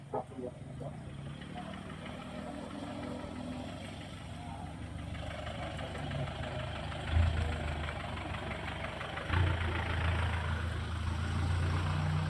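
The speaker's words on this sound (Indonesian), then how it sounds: "Ada mobil bentar." Low engine rumble of cars driving past outside, with passing swells around seven and ten seconds, heard behind a quiet room on an Indonesian economics recording.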